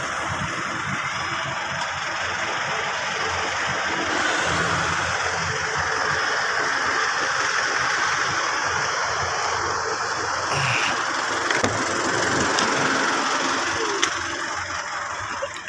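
Steady, loud engine drone of a parked vehicle warming up at idle, continuous throughout with a broad rushing wash and a few faint knocks, no talking.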